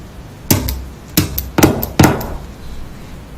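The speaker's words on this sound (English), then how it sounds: "an instrument that has the ability to hammer a thumbtack into a wall like that" Chiropractic activator hammering a thumbtack into a wall: four sharp, loud metallic clacks spaced about half a second apart, each with a brief ringing decay, then quiet.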